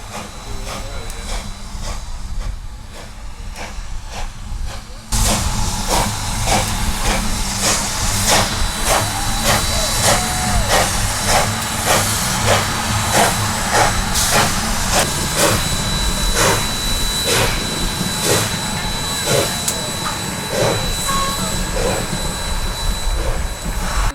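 A hissing U.S. Sugar steam locomotive, number 148, rumbles in, then settles into a rhythmic chugging beat with steady steam hiss, loud and nearby.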